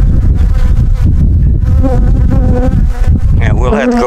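Honeybees buzz in a loud, steady, dense drone at an open hive, close and continuous throughout with no talk.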